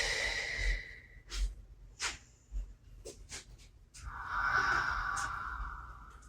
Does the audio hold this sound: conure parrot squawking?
no